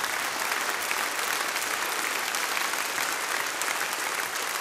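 Large audience at a Swiss folk music gathering gives a huge, continuous round of applause for a performer, steady dense clapping throughout.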